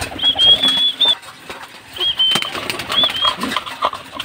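Pigeons gather at a feeder during a loft session, with soft wing flaps, shuffling and brief high chirping calls close by, in short clustered bursts.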